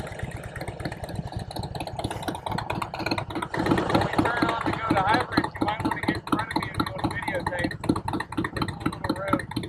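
A Harley-Davidson Road King motorcycle idling nearby, an uneven low throbbing pulse running continuously beneath someone talking.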